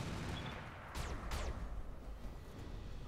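Mech weapons fire in RogueTech, a battle game with PPCs and LRMs, as two sharp blasts with rumbling tails over a constant loud combat din.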